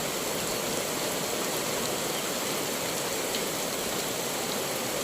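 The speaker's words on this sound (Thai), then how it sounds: "มีฝนตกลงมาตอนนี้" Steady rain falling outdoors over open fields, a dense even hiss with no break, moderately loud and constant throughout.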